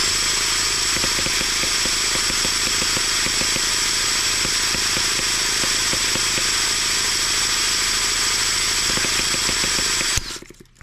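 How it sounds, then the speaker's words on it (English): An M14 twin cylinder tractor engine runs unevenly on one cylinder, a loud, steady, close chugging with an irregular firing rhythm that cuts off abruptly near the end. "It almost acts like it only wants to run on one cylinder."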